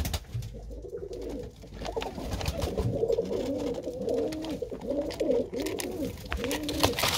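Several pigeons coo outdoors in repeated rolling calls, close and overlapping, with light rustling and faint background noise.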